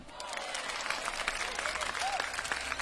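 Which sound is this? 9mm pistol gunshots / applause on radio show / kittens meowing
applause on radio show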